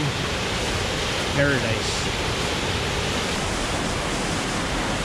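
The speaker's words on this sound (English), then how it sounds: "here's our waterfall again from a different angle" A Vancouver Island waterfall pours among contoured rock and ferns, a steady, dense rushing roar heard close, with one brief spoken word over it.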